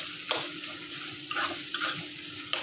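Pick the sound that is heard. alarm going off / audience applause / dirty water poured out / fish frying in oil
fish frying in oil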